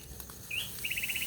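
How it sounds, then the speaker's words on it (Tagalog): A bird whistles nearby outdoors: a single rising chirp followed by a quick run of repeated high tweets, clear above a soft, low background. "Sinisipul-sipulan ko ng ibon ah"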